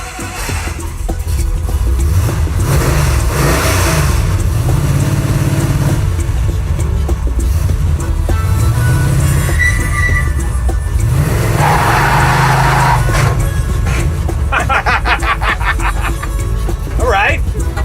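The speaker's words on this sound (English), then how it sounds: "You just did a burnout, too." A vintage Dodge Charger circle-track car revs hard through a burnout, its engine rising and falling in loud surges, with people talking over it.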